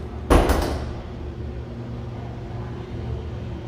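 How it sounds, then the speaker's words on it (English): Automatic handicap-accessible door opening after a push button, with a sharp broadband clunk near the start, then a steady low motor hum and faint rumble running to the end. "The door opens."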